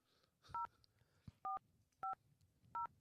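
A telephone number dialed on a keypad: four crisp, loud DTMF tones at uneven intervals, each a short dual-pitch beep, with faint handling clicks between them and no speech.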